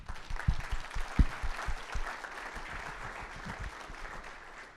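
Audience round of applause at a data and AI summit, fairly quiet, with a few distinct nearby claps over a soft crowd patter that tapers off.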